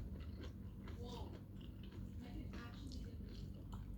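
Close, wet biting and chewing of a thick, tough fresh tomato, a steady run of squishy mastication over a dense background noise.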